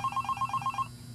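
Phone ringing in the horror game Five Nights at Candy's, a rapid series of about seven electronic trill pulses in quick rhythm, clear and moderately loud, then stopping.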